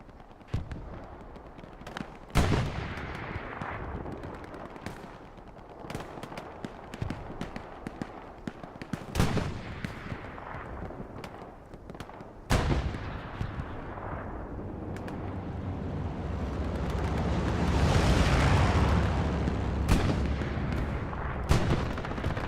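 Gunfire and artillery in the online war game Hell Let Loose: sharp, loud gunshots crack at intervals over a continuous rumble, with heavy booming explosions swelling into a long roaring blast toward the end.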